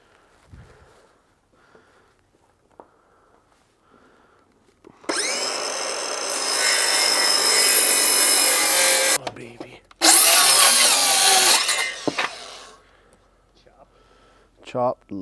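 A power saw cuts through wooden stringers for a set of deck stairs in two loud sustained passes separated by a short pause, with quiet handling noises and brief talk before and after.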